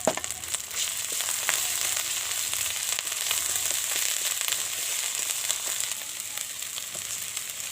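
A steady sizzle of garlic paste frying in a pan with browned onion paste, with scattered light crackles and spits, continuous and fairly close.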